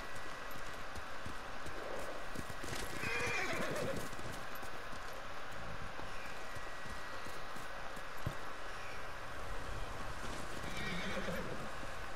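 A horse in Ghost of Tsushima gallops steadily with clip-clop hoofbeats under a low ambient bed, whinnying loudly twice, once early and once near the end.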